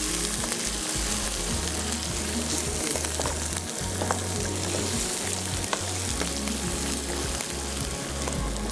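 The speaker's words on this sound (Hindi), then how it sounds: "मसाले को भूनना है।" Turmeric and red chillies fry in a pan on the stove, making a continuous loud sizzle and crackle with occasional stirring scrapes, heard up close with no talking.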